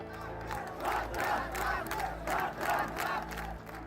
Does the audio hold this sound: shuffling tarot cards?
no